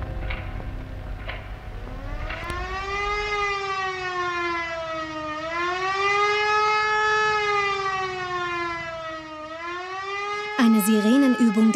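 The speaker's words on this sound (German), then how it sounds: "Sirenenübung des Katastrophenschutzes." A civil defense siren sounds during a Cold War-era disaster-protection drill in Westphalia. It is one loud, sustained wail that slowly rises and falls, with a brief harsher burst at the end.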